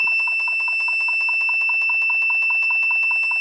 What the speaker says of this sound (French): j'ai fait en sorte que ces LED s'allument et qu'un buzzer sonne